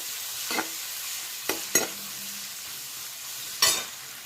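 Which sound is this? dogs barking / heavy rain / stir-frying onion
stir-frying onion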